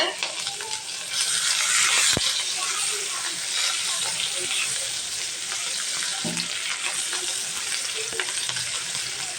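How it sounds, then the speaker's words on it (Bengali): Chopped onion hisses and crackles steadily in hot oil in a pan where fish was just fried, with occasional clicks and scrapes of a spatula stirring close by. "এখন আমি পেঁয়াজের কুচি দিয়ে এটাকে ভেজে নেব"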